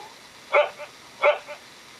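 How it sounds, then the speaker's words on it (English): A fox barks twice in the countryside at dusk, two sharp, clear calls about three-quarters of a second apart, each followed by a softer trailing yelp, close and fairly loud. "Sniffing the air, a bold fox barks, warning others"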